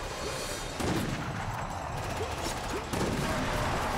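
Weapon fire in the multiplayer shooter Resident Evil: Operation Raccoon City, a few sharp shots over a dense, noisy game mix with background rumble and effects.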